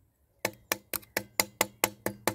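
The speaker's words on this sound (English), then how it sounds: "I'm going to tap until I can hear an actual change in tone" A quick series of crisp knocks on wood being tested for solid fatwood, nine taps in a steady rhythm after a brief silence, close and clear.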